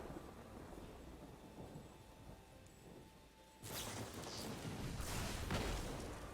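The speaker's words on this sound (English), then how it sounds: "Lightning Strike again." A Lightning Strike spell from the MTG Arena card game goes off as a sudden loud crackling burst, like a thunderclap, and then rumbles on for about three seconds after a quiet stretch.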